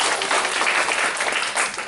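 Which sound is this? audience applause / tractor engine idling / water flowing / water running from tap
audience applause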